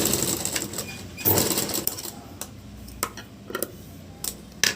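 A sewing machine stitching a blouse cross belt runs in quick rattling bursts, stopping and restarting several times, with sharp clicks and ticks in the pauses; close and fairly loud, no speech.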